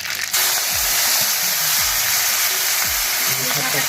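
Large-cut onions dropped into hot oil in a pan, a loud hiss bursting in and holding as a steady close sizzle, with a few low knocks underneath.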